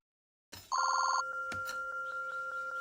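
Telephone ringback tone on an outgoing call, a repeating electronic warble followed by steady evenly spaced purring rings with a brief click, clear and close with no talking.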